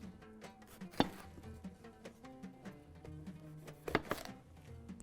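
Capsicum cut into chunks with a knife on a board, giving quiet, uneven chops with a few sharper thuds against the board.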